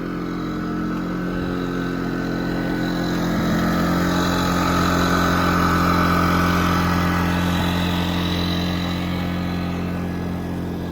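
An engine-driven power source running at full throttle while powering a travel trailer air conditioner holds a loud, steady droning hum with a constant tone and slight swelling, close by and without speech.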